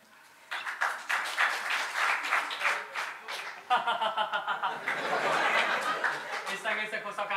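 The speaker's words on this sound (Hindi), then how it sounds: "एक बार फिर से हम तालियां चाहेंगे अपने सारे कलाकारों के लिए" Audience applause and clapping for performers at a live music event, with chatter and chuckling mixed in; a steady broad wash of clapping fills most of the clip, followed by a denser burst of applause.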